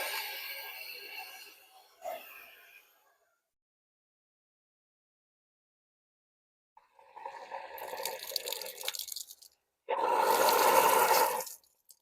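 Water splashes briefly out of a filter cartridge, stops, then gushes again in two longer bursts of rushing flow separated by silence.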